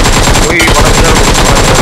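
Rapid automatic gunfire in PUBG Mobile, a dense, continuous rattle of shots filling the whole stretch at close, loud level, with no talk over it.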